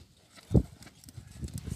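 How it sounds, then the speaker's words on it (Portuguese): Hooves of a mare being warmed up by a trainer strike the ground with one sharp near thud and then a softer, uneven run of steps. "Eu tô aquecendo essa égua."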